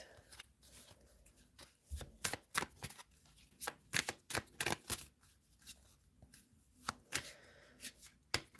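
Fortune cards shuffled by hand, a quick series of crisp riffling snaps and flicks in irregular bursts, close and clear against a quiet room.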